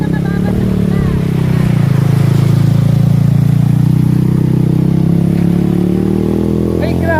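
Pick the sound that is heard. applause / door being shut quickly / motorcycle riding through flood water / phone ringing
motorcycle riding through flood water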